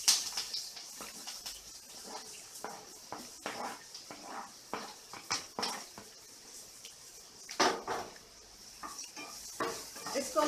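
Chopped chillies and onion are stirred and sautéed in a pan, with repeated close scrapes and clinks of a spoon against metal in uneven bursts over a faint sizzle.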